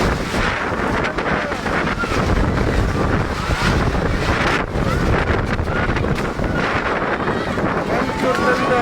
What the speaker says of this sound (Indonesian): Angin sangat kencang, tenda-tenda masyarakat terhambur,